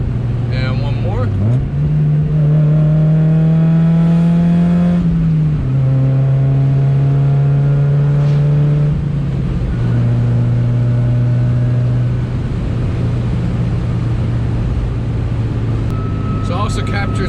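A car fitted with a RoadsterSport 4 exhaust revs and downshifts, the engine drone rising and dropping through several gear changes in a loud, continuous interior recording, with a person speaking over it.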